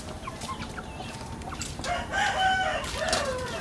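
Chickens in a home garden cluck and a rooster crows, the calls rising midway and overlapping at moderate distance over a steady background hum, with no talk.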